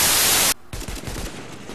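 Gunfire in the video game The Division: a loud, dense burst of automatic fire cuts off abruptly, then scattered fainter shots and crackling continue behind it.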